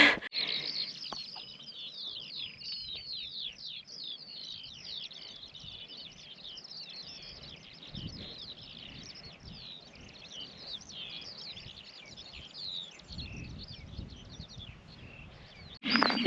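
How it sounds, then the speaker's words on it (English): Birds on a quiet Black Mountains hilltop keep up a busy, continuous chorus of high chirps and trills, with soft wind and a few brief low rustles underneath. "You can hear all the birds."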